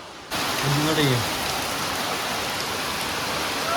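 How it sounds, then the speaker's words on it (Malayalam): Heavy rain pours steadily outside, a dense, even wash of noise that holds for several seconds after starting abruptly, with a brief faint voice-like sound near the start. "പുറത്ത് ഒടുക്കത്ത മഴ എന്ന് വെച്ചാൽ ഒടുക്കത്ത മഴയാണ്"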